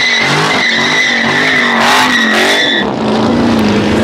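Dodge muscle cars do burnouts at a car meet, loud screeching tire squeal over roaring engines. The sound is continuous and close, rising and wavering in pitch, with no talk.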